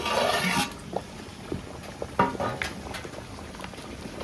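A big pot of rice bubbles and boils with bay leaves while being parboiled for an 8 kg vegetable biryani order, a soft steady simmer with a louder burst at the start and occasional light clinks.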